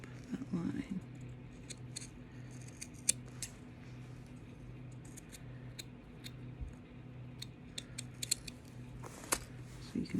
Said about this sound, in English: I'm gonna just cut straight up that line